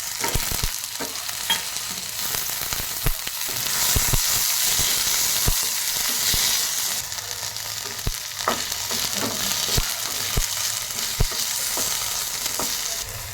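Cumin, curry leaves, ginger, garlic and green chillies fry in hot oil, a steady loud sizzle with stirring clatters and scrapes throughout, no voices.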